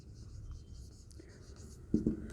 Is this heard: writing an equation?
yes